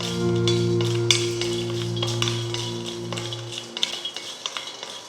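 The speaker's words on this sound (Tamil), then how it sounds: "அடுத்தது ஜாதிக்காய் வறுத்துக்கலாம் அது கூடவே ஏலக்காய் சேர்த்துக்கலாம்" Nutmeg and cardamom being dry-roasted in a pan, a spoon scraping and clinking against the metal in repeated strokes over a steady hum that cuts out partway, leaving sharp taps and faint rattling.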